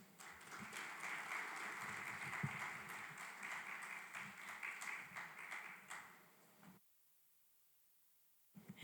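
Audience at a fraud-prevention solution launch at a Kampala hotel claps steadily for about six seconds, a dense, moderately distant applause that fades out into near silence before a faint rustle returns.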